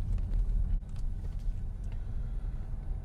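Cheap Mercedes ML SUV with dashboard warning lights being driven, a steady low engine drone and road rumble from inside the cabin, fairly quiet and continuous.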